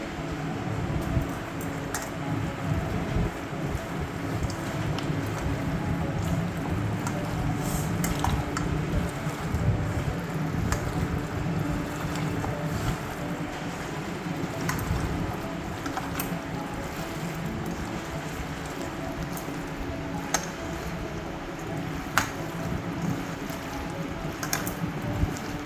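Mutton pieces are mixed by hand with mustard oil, giving a continuous close, wet squishing and slapping with soft drips and clicks throughout, no talk over it.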